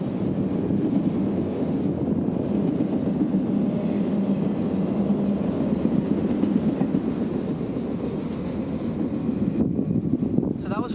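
Freight train 441, powered by two AC-44 locomotives and about 8,500 feet long, rolls past in a continuous heavy rumble with wind buffeting the microphone, steady and fairly loud throughout.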